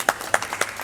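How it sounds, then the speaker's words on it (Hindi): A few sharp, separate claps at a Sindhi film premiere, where the audience applauds the film's producer. The claps come in a short, evenly spaced burst, nearby and fairly quiet. "तो प्रोड्यूसर के लिए भी तालियां बनती हैं."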